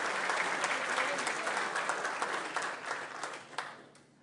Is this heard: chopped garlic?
no